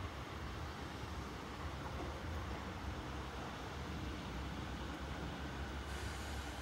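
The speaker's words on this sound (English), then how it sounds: "Please stand well clear of the train arriving platform 3, train not in service." A Class 950 train rumbles into a platform at Newark Northgate station, a steady, fairly faint rolling roar of wheels and carriages that holds throughout without any talk.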